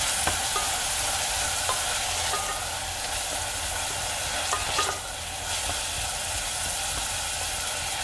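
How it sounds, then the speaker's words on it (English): Red onions sweating and frying in a pan, giving a steady hissing sizzle with a few soft utensil clicks. Close and continuous throughout, with no one talking. "So I'm just gonna let the onions kind of sweat out a little bit"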